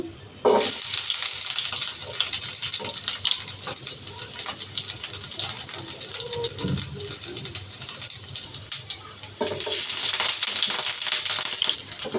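Chopped onion and garlic cloves fry in a little mustard oil, giving a steady, close, bright sizzle and crackle that holds throughout with slight swells, and no one speaks.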